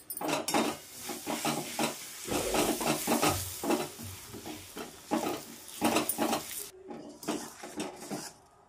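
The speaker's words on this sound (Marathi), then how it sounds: "आपण गूळ पुन्हा आता वितळून घेणार आहोत" Jaggery melting with a spoon of ghee in a pan for murmura laddu syrup, stirred steadily so the spoon scrapes the metal in repeated close bursts, with a faint sizzle underneath and no talking.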